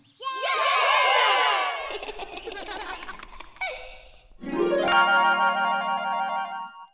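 Children shout, squeal and laugh together in a lively burst, high excited voices overlapping loudly, then dipping briefly before another rising wave of shrieks and laughter.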